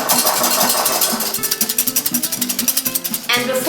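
Hand whisk beating cocoa powder into egg whites, a fast rhythmic clatter and scrape of rapid strokes, loud and close; a voice speaks over the early strokes.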